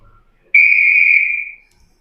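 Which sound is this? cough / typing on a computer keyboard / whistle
whistle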